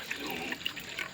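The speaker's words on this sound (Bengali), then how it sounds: "এবার সব বাড়িতে তেঁতুল জলগুলো দেবো।" Tamarind water poured over portions of fuchka, a brief, quiet splashing trickle of liquid with small dribbling bursts.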